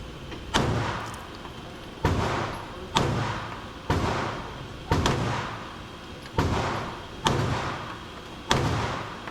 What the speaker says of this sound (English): I'm gonna push it back to 15, and then I'm gonna shoot the